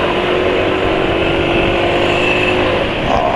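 A motorcycle engine running on Esso 4T Pace oil mixed with corn oil, steadily at close range, a loud, even mechanical drone with a slight roughness and no talking.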